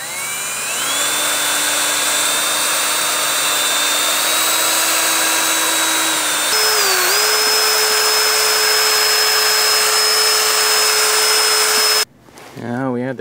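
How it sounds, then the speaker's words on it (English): A small handheld power mixer whirs steadily while stirring Monstaliner bed liner for a Jeep, its motor pitch shifting slightly partway through before cutting off near the end, followed by a brief burst of other noise. "Now we start the mixing with the little mixer."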